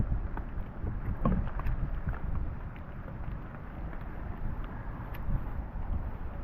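Wind gusts across a late-fall hammock camp in the rain, roaring and buffeting the microphone in a continuous loud rush, with no voices heard.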